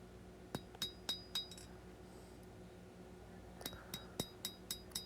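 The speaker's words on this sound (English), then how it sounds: "Now I'm going to use the smaller hammer and start working the bevel." A smaller hammer strikes the bevel of a steel skinner knife during hand forging, two bursts of quick ringing metallic taps, about five blows each, fairly faint with a pause between.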